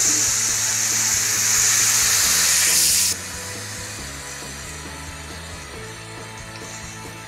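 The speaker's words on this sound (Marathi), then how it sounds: "मिक्सरचं भांडं घेऊन घ्यायचं आणि तेच पाणी घालायचं आहे आपल्याला यामध्ये" Water from grinding chana dal paste is poured from a mixer jar into a spicy sandge curry, a loud splashing hiss for about three seconds that then stops, leaving quiet background.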